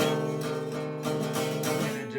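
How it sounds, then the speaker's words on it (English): A diminished seventh chord rings out on guitar, its sustained notes layered into a steady tonal stack with a couple of soft re-strikes, close and moderately loud with no voices. "then that would be a diminished 7th chord"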